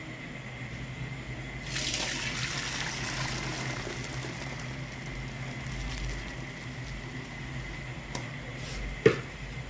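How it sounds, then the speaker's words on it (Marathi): Parboiled rice for chicken dum biryani drains through a strainer, a soft steady rush of pouring water that swells, then tapers, with a small clink near the end. "आता चाळणीत चाळून घ्यायचे।"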